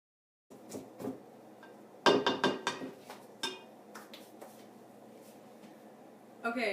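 A spoon scraping and clinking against a bowl as granulated sugar is creamed by hand for oatmeal cookie dough: scattered knocks and scrapes, a brisk cluster in the middle, fairly quiet and close.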